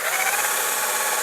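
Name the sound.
power drill drilling pilot hole in wood for bookcase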